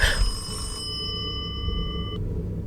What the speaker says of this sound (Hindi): फोन कौन कर रहा है भाई, तार तो कनेक्ट ही नहीं है।